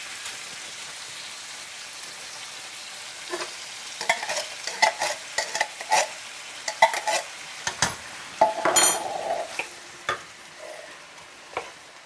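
Canned Italian stewed tomatoes poured into a hot frying pan, giving a quiet background sizzle broken by a cluster of sharp spattering pops and wet splashes midway.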